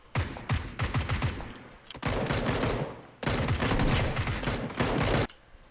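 Automatic weapon fire in the battle royale video game PUBG: three loud, sustained bursts of rapid gunshots, each lasting about a second or more, separated by brief gaps.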